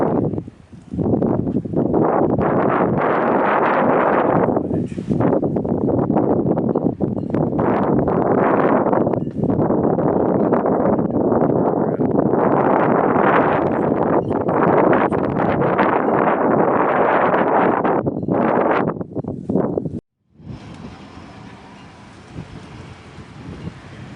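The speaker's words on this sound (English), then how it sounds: "Very windy day out here." Heavy wind buffets the microphone in loud, continuous roaring gusts, then it drops abruptly to a quieter hiss near the end.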